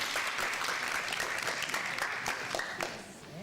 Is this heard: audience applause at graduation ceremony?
yes